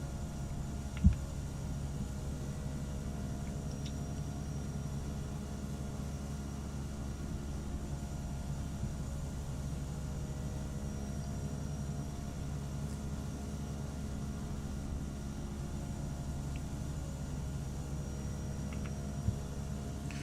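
Cessna 208 Caravan turboprop engine throttled back to flight idle in FSX, a steady low droning hum with constant broadband noise, continuous and even throughout with no voices.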